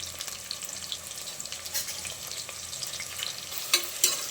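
Long-sliced onions frying in a pan until golden brown and crisp, giving a continuous close hiss with scattered crackles and a couple of sharper spatula clinks near the end.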